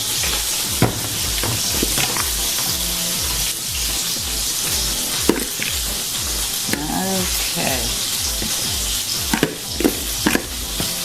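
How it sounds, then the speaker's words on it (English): Slider patties sizzling and frying loudly in a pan, a dense, constant crackle with scraping stir sounds and occasional sharp pops, while someone briefly speaks over it. "Can they hear that sizzling?"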